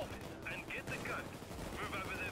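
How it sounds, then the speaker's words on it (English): Gunfire in the video game Payday 2, a steady crackle of shots running under a dense game mix with a voice talking over parts of it. "They're shooting."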